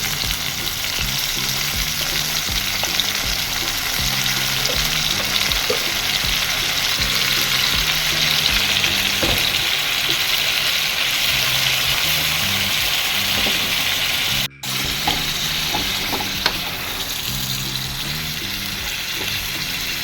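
Oil sizzling and frying in a pan while Goan minced beef and potato chops cook, a loud continuous crackling hiss with occasional stirring scrapes and one brief break.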